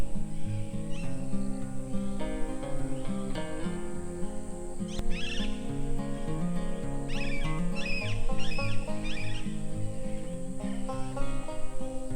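Several birds, including peacocks, call and chirp in bursts from trees in a Dooars tea garden over a dense, steady wash of outdoor sound, some calls close and others more distant.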